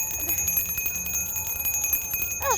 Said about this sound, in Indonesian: Suara apaan sih ini? Suara lonceng.